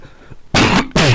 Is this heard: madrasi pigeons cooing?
no